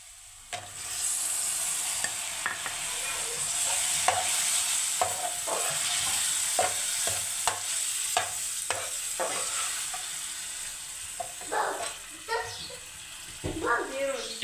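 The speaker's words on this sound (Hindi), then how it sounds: "और यहाँ मैं डाल दूँगी टमाटर।" Tomatoes going into a hot pan, sizzling and frying with a steady hiss while a spoon scrapes and clinks through repeated stirring strokes, close and fairly loud, with someone talking intermittently over it.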